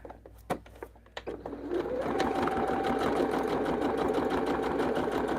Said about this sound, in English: take the first row, first 2 pieces, your block, and then the strip, and sew it on there